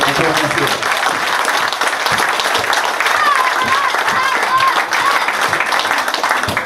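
Loud, sustained clapping from a crowd at a rural agricultural show fills the air, with voices calling out and chatter mixed in among the applause.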